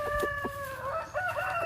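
A Shamo Aseel rooster crows once in a long, wavering call, close and loud, with clucking from other stag chickens around it at a Philippine farm.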